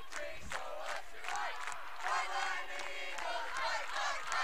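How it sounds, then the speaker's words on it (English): A crowd at a high school volleyball state championship sings and chants the Lyman fight song, a loud, continuous mass of voices with rhythmic shouts, heard from the stands. "fight song for Lyman going on from the crowd behind me"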